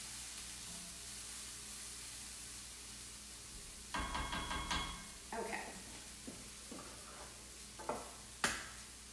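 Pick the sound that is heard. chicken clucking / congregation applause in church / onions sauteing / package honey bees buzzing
onions sauteing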